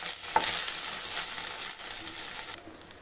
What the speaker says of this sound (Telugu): అల్లం వెల్లుల్లి పేస్ట్ని పచ్చి వాసన పోయేంత వరకు కుక్ చేసుకోవాలండి.